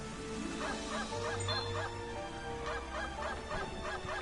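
Repeated yelping barks of a dog named Poochie in Gravity Rush Remastered, a steady series of short honk-like calls over game background sound.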